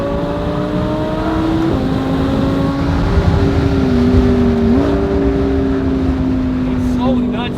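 Audi R8 Performance accelerating hard, the exhaust note rising into a loud sustained roar with a brief shift dip partway, heard from inside the car.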